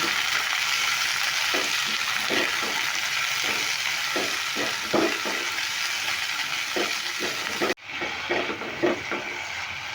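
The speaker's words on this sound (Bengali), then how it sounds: "আঙুরগুলো দিয়ে ভালো করে নেড়ে ফেড়ে হালকা করে ভেজে নেব" Grapes sizzle steadily in a hot pan while a utensil scrapes and stirs in repeated strokes; the sizzle briefly cuts off, then resumes softer.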